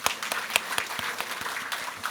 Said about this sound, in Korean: 잠시 하나님께 영광의 박수 올리겠습니다.